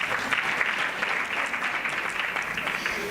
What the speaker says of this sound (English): So please give MEC Nkonyeni a big round of applause.